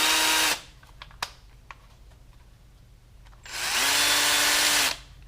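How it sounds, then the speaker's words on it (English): A power drill spinning a rivet nut tool whirs in two bursts, spinning up and winding down, with a few small clicks and taps in the quiet gap between. "you attach it to a drill. As you run the drill in and out, this will spin"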